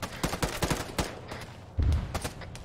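Gunfire in a modern military combat game, a rapid run of sharp close shots followed by isolated cracks and a deep heavy boom, then further scattered shots.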